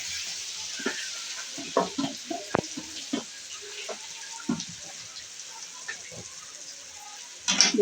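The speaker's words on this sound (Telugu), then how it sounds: "ఇదంతా వేసుకొని మంచిగా ఫ్రై కావాలి." A potato paste fries quietly in a pan while being stirred, with a soft sizzle bed and scattered scraping and clicking taps from the spoon.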